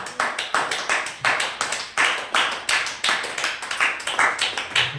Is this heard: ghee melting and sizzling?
no